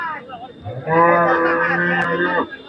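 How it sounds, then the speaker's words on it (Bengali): A cow lets out a long, loud, drawn-out moo, close by, at a busy cattle market, with faint background murmur before it. "অনেক গরু আছে এই মনিরামপুর গরুর হাটে"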